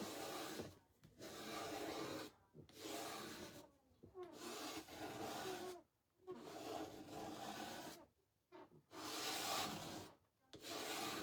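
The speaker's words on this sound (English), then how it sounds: "we'll sand it and get some more off" A vintage wooden daisy shelf sitter is sanded by hand in close, rhythmic back-and-forth strokes that are rough and scratchy, with short pauses between bursts.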